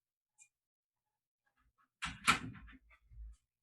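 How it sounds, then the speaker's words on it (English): A door is pulled shut indoors with a brief shuffle and a solid clunk as it closes, followed by a soft thud, all close and isolated in a quiet room. "Pull that door over for us, Wink, will you please?"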